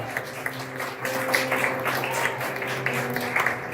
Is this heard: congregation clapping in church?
yes